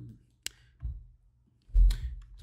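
A single mouse click in Lumion rendering software, a sharp brief tick standing alone in near-silence before other low handling noises.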